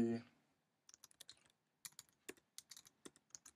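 Rapid, uneven keystrokes on a computer keyboard while typing PHP and JavaScript code for a CMS, clicking in short bursts after a brief low thump at the start, close and fairly quiet with no talking.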